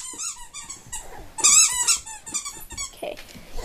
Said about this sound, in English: It's a chicken drumstick that squeaks,